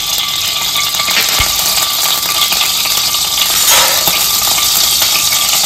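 Oil for a Goan crab curry goes into a hot pan and crackles with a dense, steady sizzle, close and loud, with faint clinks of utensils and no talking.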